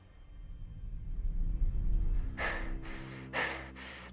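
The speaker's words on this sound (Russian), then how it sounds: "А что ты так тяжело дышишь?" A character in the video game Hogwarts Legacy breathes heavily, with four sharp, breathy gasps in a row after a quiet rumbling start, close and fairly loud.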